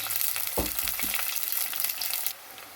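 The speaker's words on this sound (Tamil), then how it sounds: "இப்போ போட்ட வெங்காயம் கொஞ்சம் அரைவாசி வதங்கி வந்துட்டு" Small onions sauté in oil in a clay pot for a village-style dried-fish curry, giving a continuous close hiss with a couple of soft stirring knocks before the sizzle drops away near the end.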